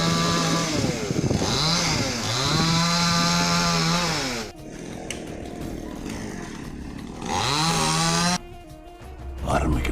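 A motor saw cuts banyan tree branches at Pudukkudi ahead of a festival. The engine is loud and close, with its pitch rising and falling in repeated revs and short pauses, and voices can be heard in the background.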